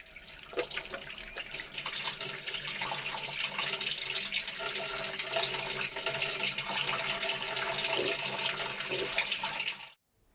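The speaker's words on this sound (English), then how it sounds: "let's start first by washing our hands with a liquid soap" Hands being washed with liquid soap under a running tap before a blood pressure check, a steady close rush of water with faint splashing for about ten seconds, stopping abruptly at the end.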